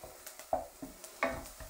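Onions fry with spices in oil in a pan for a beef and rice dish, giving a soft sizzle with a few stirring scrapes and clatters, close and fairly quiet with no talk.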